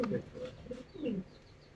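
Pigeons cooing at a fancy pigeon farm, soft repeated throaty coos close by, with faint chirps in the background.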